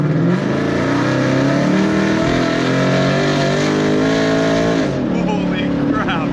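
Ford Mustang GT with an extremely loud aftermarket exhaust revving hard, a deep roaring blare that climbs and holds in pitch for several seconds before dropping off, close and dominant.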